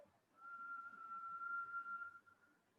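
A soft, steady whistled breath held on one tone for about two seconds during a kriya breathing exercise, rising and fading gently in a quiet room.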